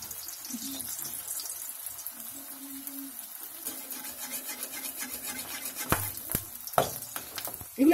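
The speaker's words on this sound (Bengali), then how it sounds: "এবার আমি এর মধ্যে 4টে পিঠে ছাড়ছি।" Four chhana-chire puli pitha fry over a lowered gas flame in a pan, giving a faint, steady sizzle with a few sharp clinks near the end.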